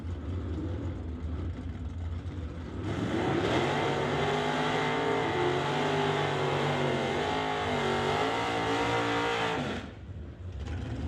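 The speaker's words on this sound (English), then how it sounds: "you can hear the first pair of stock super stock combo cars firing up and rolling into the water box, and two stock eliminator machines" Stock and super stock drag race cars firing up and rolling into the water box, a low idle swelling into a loud, sustained engine roar before dropping back, with no talk.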